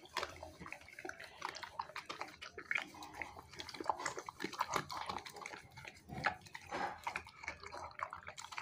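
A dog eating chicken wings up close, with wet chewing, smacking and crunching in an irregular rhythm, fairly faint and continuous with no talking.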